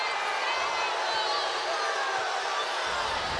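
A large basketball arena crowd in Indiana roars in steady, loud disapproval after an offensive foul call during a WNBA game, a continuous wash of voices filling the space throughout.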